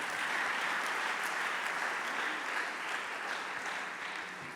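A church congregation applauds steadily and loudly, a dense wash of many clapping hands that holds at a constant level throughout, with no talk over it.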